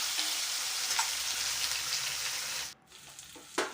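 Onion with ginger-garlic paste frying in hot oil, a steady close sizzle running throughout with a brief dip near the end before it picks back up.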